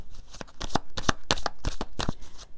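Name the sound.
shuffling a deck of tarot cards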